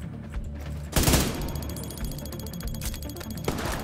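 Gunfire in The Division 2 video game: one heavy close shot, then rapid repeated firing chattering through the rest amid alarm-like game sounds, with another loud shot near the end.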